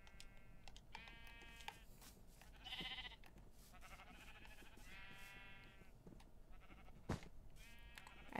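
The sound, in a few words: sheep bleating in the video game Minecraft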